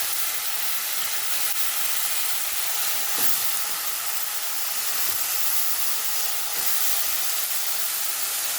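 Turmeric-coated country chicken hitting a hot pan, giving a steady loud steaming hiss and sizzle that holds throughout, with faint clinks underneath.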